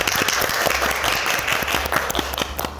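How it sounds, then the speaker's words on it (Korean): At an international cooperation workshop, an audience warmly welcomes the founder and chairman of a space industry company with steady, dense clapping that fills the room, close and moderately loud, with little talking. "큰 박수로 맞이해 주세요."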